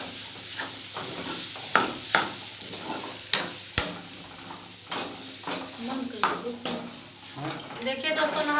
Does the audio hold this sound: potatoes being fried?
yes